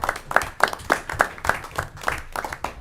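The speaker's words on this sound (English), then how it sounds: "I think we all should give Megan a round of applause for the splash pad and the 4th of July" Round of applause at a board of directors meeting: close, fairly rhythmic clapping from a small group that holds at a steady level throughout.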